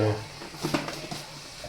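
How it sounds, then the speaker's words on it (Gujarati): A homemade Kathiyawadi-style Manchurian mixture is stirred in a cooking pan, with soft scraping strokes over a light sizzle and a few clinks near the middle. "છે ને પાકી જાય ને ત્યાં સુધી હલાવવાનું"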